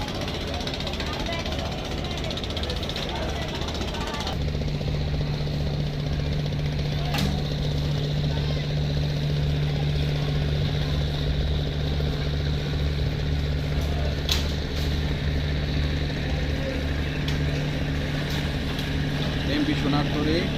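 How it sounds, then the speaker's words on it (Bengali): Engine of the MV Sonartori 3 passenger launch on the Dhaka–Chandpur river route, a steady low drone that strengthens partway through and holds under constant water and wind noise, with occasional talk. "এমবি সোনারতরী 3 নম্বর লঞ্চ, এটা ঢাকা চাঁদপুর ঢাকা রাস্তাগুলি চলাচল করে।"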